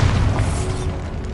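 The Bombarda spell goes off in Hogwarts Legacy, heard as a dense, loud rumbling burst. Heavy low-end roar runs through the whole moment and fades slightly toward the end, with no voices.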